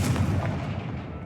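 A Confringo fire spell blast from the Hogwarts Legacy video game, a single booming, explosive burst that rings out and decays over about a second, with no talking.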